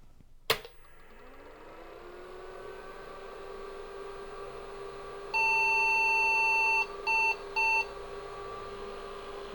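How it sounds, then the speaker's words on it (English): An IBM 5150 powers on with a click and rising hum, then sounds one longer beep followed by two short beeps, clear against the steady fan noise. "We got the one beep and then two, like we have been this whole time."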